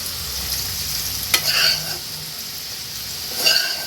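Spices frying in a pan give a low, steady sizzle, with a couple of brief clinks and stirring bursts near the microphone.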